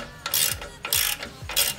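Ratchet of a coil spring compressor working on GMC lowering springs, three bursts of quick clicking strokes, close and fairly loud, with no talk.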